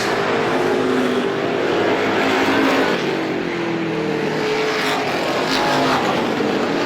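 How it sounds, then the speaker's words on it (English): Race cars at Star Speedway battle side by side for third place in a feature race, a loud continuous engine roar with shifting pitch as the cars run close together. "good side-by-side racing here for the 3rd position"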